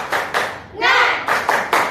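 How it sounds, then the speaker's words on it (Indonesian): A classroom group claps a rhythmic spirit clap, sharp bursts of hands in a quick patterned beat broken by a short vocal shout in the middle, close and loud. "di sini kita tepuk semangat dulu ya"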